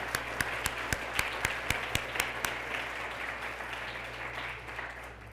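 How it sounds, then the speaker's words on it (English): Audience applause at a university partnerships showcase, a broad wash of clapping from a sizeable crowd with a few sharp, close claps standing out early, gradually thinning toward the end with no talking. "they deserve applause."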